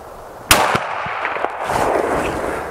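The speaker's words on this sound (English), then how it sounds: "So let's try another shot." A single loud 30-30 rifle shot fired at a cinder block target outdoors, a sharp close crack followed by a few fainter echoes and a lingering rumble.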